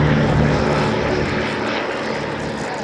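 A 1942 Piper Cub liaison light aircraft flying an air show display at Duxford, its propeller engine droning steadily and loudly nearby, the tone slowly fading slightly as it passes.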